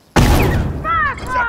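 A single sudden, loud bomb blast in The Last of Us, hitting with a sharp, heavy onset and a rumbling tail, followed by a shouted voice.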